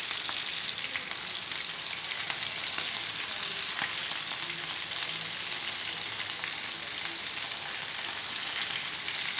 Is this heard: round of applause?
no